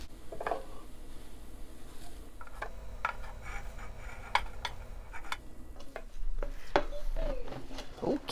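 Potato filling being stirred in a pan makes soft scraping and sharp utensil clicks against the pan, fairly close, with low rumbling background throughout.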